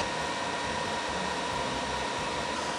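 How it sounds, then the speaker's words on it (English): Loud, steady whooshing of a portable power station's cooling fans, a continuous airy roar like a hairdryer, with no pauses. "These fans are cranking. It sounds like a hairdryer."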